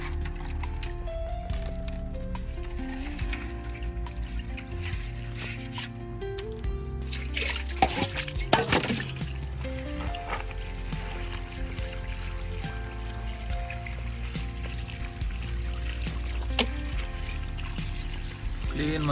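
Mud crabs for a Mangalore-style ghee roast are washed in clean fresh water, with steady pouring, dripping and sloshing throughout and a louder burst of splashing midway.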